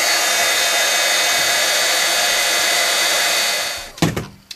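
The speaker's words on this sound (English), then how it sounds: "I'm just going to go ahead and heat both of these pieces up" A heat gun blows steadily and loudly at close range while heating small craft pieces, then shuts off near the end with a few brief handling knocks. No one speaks.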